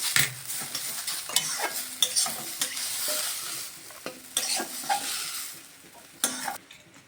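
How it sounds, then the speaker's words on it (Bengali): Potatoes fry in a pan with a crackling sizzle, broken by repeated scraping and stirring strokes at an uneven rhythm. "এই যে দেখুন আলুটা ভাজা ভাজা হয়ে গেছে।"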